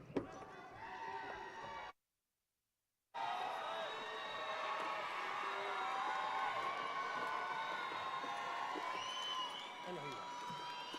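A crowd at a 2024 high school graduation ceremony cheers and calls out for a graduate in a sustained, reverberant roar. A voice speaks over it, and the sound drops out completely for about a second early on.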